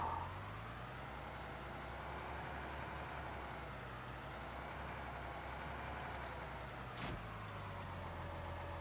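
A Volta tractor in the Farming Simulator 19 video game runs with a steady, low diesel engine drone, interrupted by a brief hiss and a few faint high beeps.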